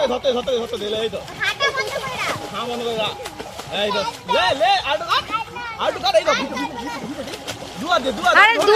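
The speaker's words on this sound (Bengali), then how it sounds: "ভালো করে সাঁতার কাট" A child splashing and paddling while swimming in water, with irregular splashes close by under excited voices of adults and children calling out throughout.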